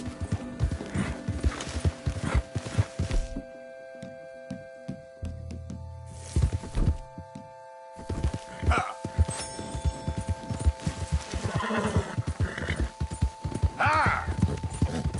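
Horse hooves clip-clop in Red Dead Redemption 2, a steady rhythmic pounding up close, broken by a brief pause before resuming with occasional whinnies and snorts amid game sounds.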